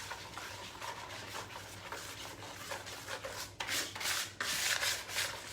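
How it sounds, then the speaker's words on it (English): Whisking a second batch of batter in a bowl during holiday kitchen prep, a steady scraping, rubbing rattle of the whisk against the bowl that grows louder and busier toward the end, close and without talk. "we're gonna whisk again"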